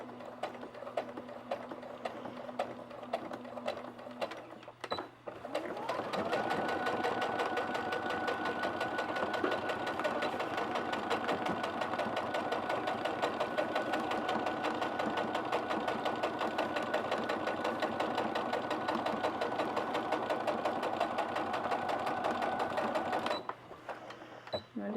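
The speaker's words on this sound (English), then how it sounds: "I'm just going to sew a straight line going down to the end." A sewing machine stitching a long straight seam in camper cushion fabric: after a short pause, a steady, fast, whirring stitch rhythm runs unbroken for nearly twenty seconds, close and even, before stopping abruptly, with some quiet talking near the start.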